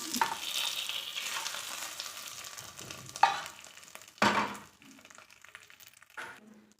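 Onion and garlic sizzle softly in a pan while a spoon stirs and knocks against it. A louder hiss bursts out as the tempering goes in, then the sound fades to a quieter crackle. Nobody talks.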